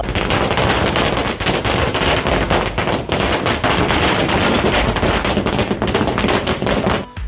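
A dense, continuous barrage of fireworks and firecrackers crackles loudly and rapidly at a welcoming celebration in Nanded, bursts overlapping with no pause for several seconds.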